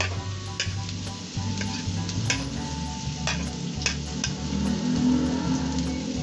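Ginger slices stir-frying in a hot pan give a steady loud sizzle, broken by repeated sharp clicks and scrapes of a utensil against the pan throughout.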